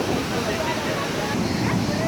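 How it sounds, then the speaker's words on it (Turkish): Manavgat waterfall, water rushing and roaring in a steady, broadband wash that fills the whole clip, close and continuous, with some wind buffeting the microphone. "Gördüğünüz gibi gürül gürül akan bir şelale var."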